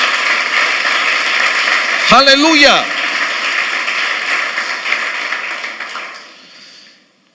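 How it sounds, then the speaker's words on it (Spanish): Church congregation clapping loudly and steadily for several seconds, with a brief spoken exclamation partway through, before the applause fades out at the end. "Denle un aplauso al Señor bien fuerte."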